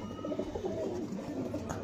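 A soft, fluffy pigeon gives low, quiet cooing, a brief run of gentle murmuring notes close by with no voices.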